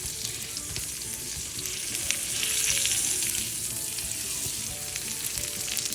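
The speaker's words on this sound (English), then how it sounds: "So now what you want to do is turn it to the side and render that fat." Fat on the edge of a New York steak searing in a hot pan, a loud, steady crackling sizzle with dense spitting pops, close up and continuous, with no voices.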